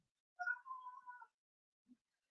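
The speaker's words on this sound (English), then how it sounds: "My cat is joining in at this point." A house cat lets out one drawn-out meow, clear and fairly close in an otherwise quiet room, followed by a brief faint chirp moments later.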